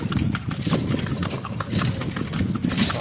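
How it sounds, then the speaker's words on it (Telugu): Horse hooves clip-clop quickly and steadily as a horse-drawn jatka cart runs at speed along a road to an old temple, close and continuous with some background noise. "గుర్రం మంచి స్పీడ్ అందుకుందండి."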